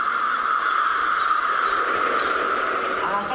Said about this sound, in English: I think these were crows.